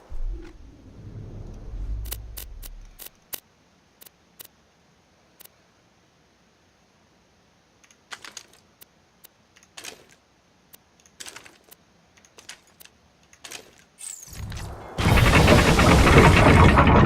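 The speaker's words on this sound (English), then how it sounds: "Just drop whatever shields you no longer want into the grinder." Shields dropped into a grinder in Borderlands 2 make a run of sparse clicks and clanks, then a loud grinding rush starts near the end. A low hum opens it.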